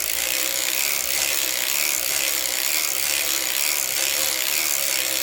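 A circular sock knitting machine is cranked forward, giving a steady, continuous mechanical ratcheting clatter that runs evenly throughout with no talk.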